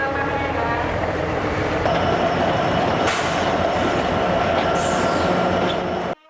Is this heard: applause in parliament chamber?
no